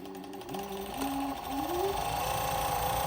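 A JUKI MO6714DA-4 four-thread semi-dry-head industrial overlock machine runs steadily on stretchy fabric, a close, smooth mechanical hum with rising motor pitch that settles to an even drone, without talk.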